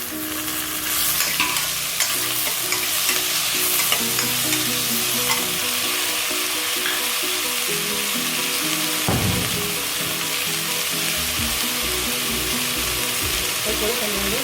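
Tomatoes and onions sizzle and fry in oil in a pan while being stirred, a steady close crackle with scraping stir strokes running through, no talking.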